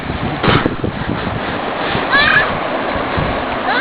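A seven-month-old Rottweiler named Ada paddles and splashes while swimming for the first time, close and continuous watery sloshing mixed with wind buffeting and people's voices.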